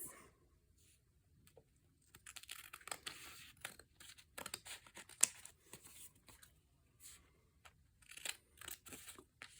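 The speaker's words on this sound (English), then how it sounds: "now I'm going to take my fabric scissors and just cut around this" Quiet snips and crisp cutting sounds from scissors working through cloth, coming in short irregular bursts close by, with soft rustling between cuts.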